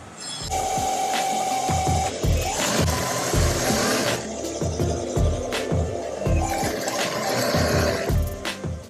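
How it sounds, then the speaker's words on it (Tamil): A sewing machine stitching fibre products made from vetiver, darbha grass and banana fibre, running close and loud in rapid mechanical bursts with brief pauses between runs. "இந்த மாதிரி தையல் வேலை இதெல்லாம் வந்து முடிஞ்ச வரைக்கும் நாங்கள் பண்ணிக்குவோம்"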